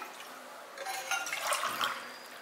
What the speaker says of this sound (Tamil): இப்போ நான் 2 கப் அளவுக்கு தண்ணி இதில் ஊற்றிடுறேன்.